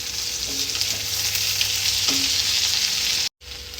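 Chicken gizzards frying in a pan with garam masala, a continuous sizzle with a few stirring scrapes and clinks, then a brief cut to silence before the frying resumes.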